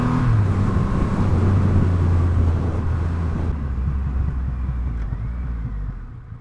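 Triumph Rocket 3 R 2500cc motorcycle engine pulling hard on a twisty country road, a loud deep rumble rising and then easing off as the revs fall, with steady wind and road noise and no talking.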